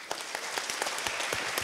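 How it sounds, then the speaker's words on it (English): Conference audience breaking into a steady round of applause, dense overlapping claps filling the room at moderate loudness with no speech over it. "let me hear a big round of applause for Dujcin from Plovdiv"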